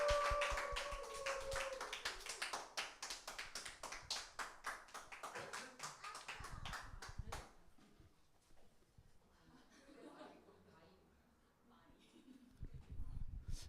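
A church congregation claps together during a Sunday worship service, with dense rhythmic claps for about seven seconds before the clapping fades into quieter room sound and a voice speaking.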